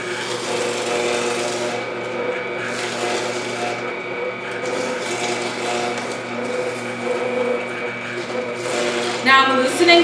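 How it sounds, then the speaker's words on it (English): An electric juicer runs steadily while fruit and vegetables are pressed through it for anti-inflammatory juice, a continuous near motor hum with grinding and rasping texture that swells slightly near the end. "just turn it on and put this here for the pulp, and then you just start juicing."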